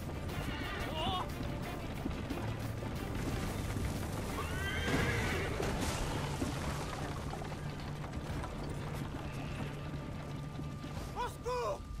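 Horses neigh and whinny amid clattering hooves and mechanical rattles in an Assassin's Creed Liberation game scene, loud and busy under a dense, constant background.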